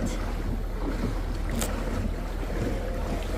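A boat moves steadily through floodwater, with continuous rumbling engine and water noise and some wind buffeting the microphone throughout.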